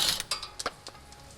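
Ratchet wrench removing the three bolts of a strut retaining plate on a Nissan 370Z during coilover installation, a quick series of soft clicking ratchet strokes, close and fairly quiet.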